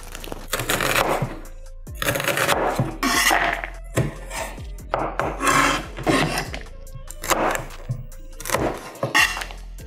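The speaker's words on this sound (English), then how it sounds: "Chopping!" A knife chops spinach and other ingredients on a wooden cutting board in a home kitchen, in bursts of quick rhythmic knocks separated by short pauses, close and clear with no talking.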